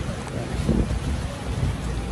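Steady rain falls on a rainy day, a dense continuous patter with low rumbling, moderately loud and unbroken throughout.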